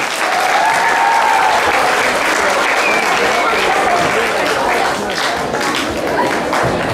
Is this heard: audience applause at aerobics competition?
yes